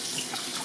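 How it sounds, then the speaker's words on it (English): Steady running water from a kitchen sink faucet pours continuously during meat prep at room temperature, a close broadband hiss with no voices. "I like to go ahead and have that running water"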